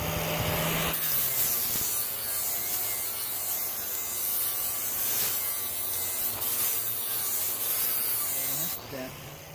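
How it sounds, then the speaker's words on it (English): An angle grinder works over pine wood in a steady, abrasive, sanding-like whine with small fluctuations in pressure, before cutting off near the end; a voice is briefly heard. "After you've got this all kind of angle grinded down"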